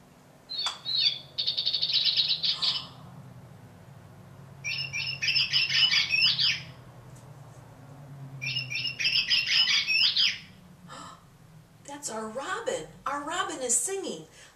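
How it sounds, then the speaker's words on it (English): Several recorded bird songs play in bursts of bright chirps and trills separated by short gaps, with a quiet low hum underneath and a bird call squawking near the end. "Jesus taught the birds to sing, and different birds sing different songs."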